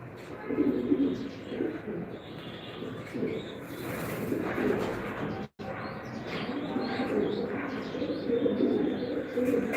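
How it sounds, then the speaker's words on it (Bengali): Soft, throaty racing pigeon coos repeat in low bursts, close by, with faint chirps and rustling around them and no talking. "এখানে দুইটা কবুতর আছে যেগুলো আমরা বসাই দিছি"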